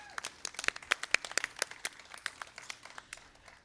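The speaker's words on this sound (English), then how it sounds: "Let's give a round of applause for that." Scattered clapping at an outdoor Pride flag raising ceremony: a small crowd's individual hand claps land sharply and unevenly, fairly faint and thinning out toward the end.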